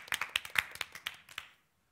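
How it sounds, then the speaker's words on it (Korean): Short burst of clapping from an audience at a community musical performance, a dozen or so sharp claps over about a second and a half before falling silent. "박수."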